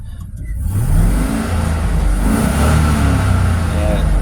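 A 2006 Chevy 3500 hyrail truck with a 6.0 engine runs loud and close with a steady, smooth drone and slight rises in revs throughout.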